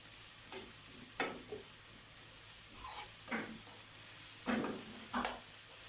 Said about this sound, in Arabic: غادي نشحر البصله حتى نحس بها طابت